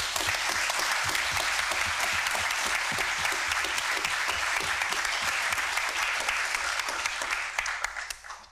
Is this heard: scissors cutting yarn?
no